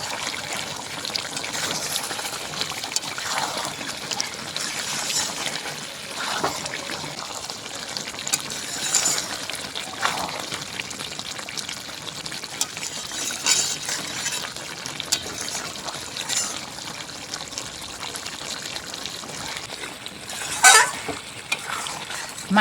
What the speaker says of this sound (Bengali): এখন মাংসটাকে ভালোভাবে আমি কষিয়ে নেব।